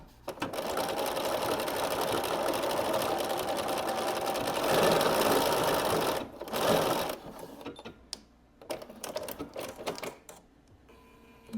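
Sewing machine back-stitching a zipper, a fast steady mechanical whir running for about six seconds, then stopping and restarting in short bursts with pauses between, close and loud.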